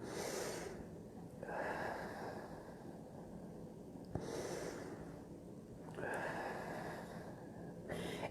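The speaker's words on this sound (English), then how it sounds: "I'm just trying to catch my breath" Heavy, rhythmic breathing up close from a person with COPD after a coughing fit, with noisy inhales and exhales repeating every two seconds or so, catching their breath.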